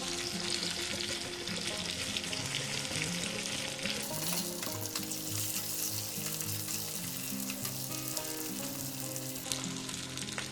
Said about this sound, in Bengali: এবার টমেটোটা দিয়ে দিচ্ছি